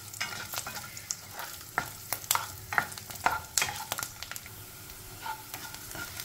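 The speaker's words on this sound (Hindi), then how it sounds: "सबसे पहले अदरक लहसुन को फ्राई कर लेंगे" Ginger and garlic sizzle and crackle in oil in a pan, with scattered pops and sharp clicks of stirring against metal, close and moderately loud, with no talking.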